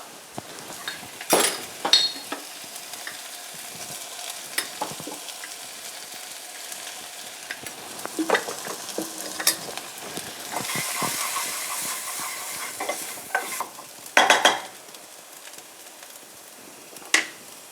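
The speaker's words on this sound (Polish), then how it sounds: "Do zeszklonej cebuli dodaję dwie łyżki mąki oraz 150 ml wywaru z piwa." Steady sizzling of onion and flour frying in a pan, with scattered scraping and tapping as it is stirred; no talking.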